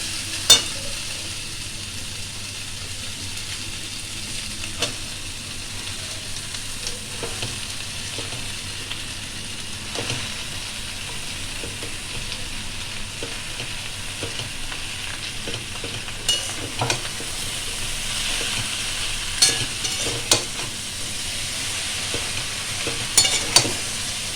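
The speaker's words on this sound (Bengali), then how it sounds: "এবার আমি দিয়ে দেবো পালং শাকগুলো।" Spinach stir-fries with prawns in a pan, a faint, steady sizzle under occasional sharp clicks and scrapes of stirring, growing slightly busier toward the end.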